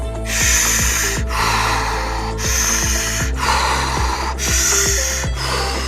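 Loud, rapid breaths in and out through the mouth in a steady rhythm, about five forceful cycles, close and alone without talk.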